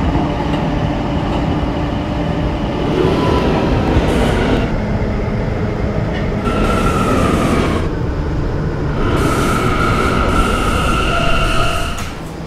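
A K line subway train runs between stations toward Halson Terminal, a steady loud rumble of wheels on track with intermittent high squeals and brief tonal whines rising and fading.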